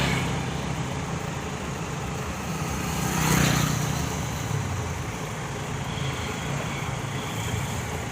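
Steady rumble of idling and slow-moving road traffic in a total traffic jam, with one vehicle swelling louder as it passes midway.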